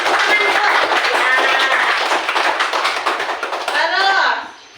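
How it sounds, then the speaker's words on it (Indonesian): Schoolchildren in a classroom clap together in a dense burst of rapid applause lasting several seconds, close and loud, with a voice rising near the end as the clapping fades out. "Ya, tepuk tangan dulu."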